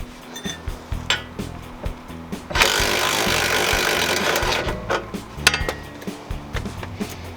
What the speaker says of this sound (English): we're going to take the impact back in there and loosen it out all the way.